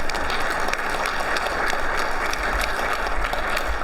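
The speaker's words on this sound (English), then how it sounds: "Let's give a round of applause" Sustained applause from a convention audience honoring a panel at the NAB trade show, a steady dense wash of clapping with low rumble underneath, continuous and fairly loud throughout.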